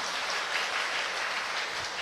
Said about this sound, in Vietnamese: Xin đạo tràng cho một tràng pháo tay thật lớn ạ